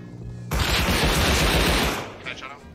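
A dense, loud burst of rapid automatic gunfire in the survival game Rust rattles on for about a second and a half, close and continuous, then trails off into quieter shuffling.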